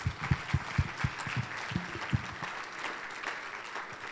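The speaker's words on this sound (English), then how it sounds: "And let's give Arpit a round of applause." A moderate round of applause at a summer awards banquet starts with several distinct, separate claps, then blends into a softer, steady clapping that fades gradually, with no voices heard.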